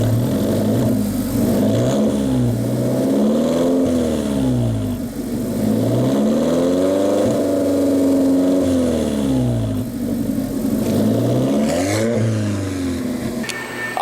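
A loud Alfa Romeo 4C sports car exhaust revs up and down repeatedly, rising and falling throaty engine roar, close by and continuous for the whole stretch.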